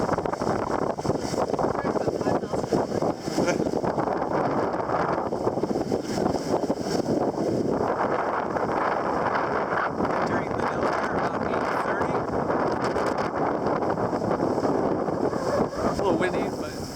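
Strong wind on a sailboat buffets and roars continuously, rumbling against the microphone, while a person talks underneath it.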